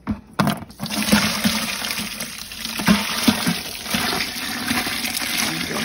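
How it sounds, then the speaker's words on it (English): Brine is poured into a clean bucket over a wild hog leg, a continuous splashing and gurgling stream of liquid that runs for several seconds, close and fairly loud with no talking. "We're just gonna pour it over in there."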